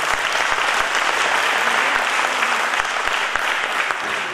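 Theatre audience applauding at a Tamil stage production of Ponniyin Selvan, a dense, steady wash of clapping from a large crowd sustained throughout at an even loudness.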